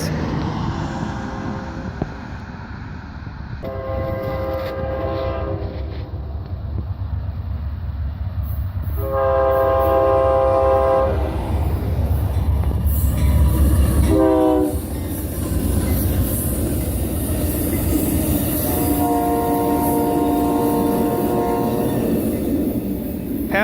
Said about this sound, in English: I spotted the Amtrak Coast Starlight, train number 11, moving south from Seattle to Los Angeles.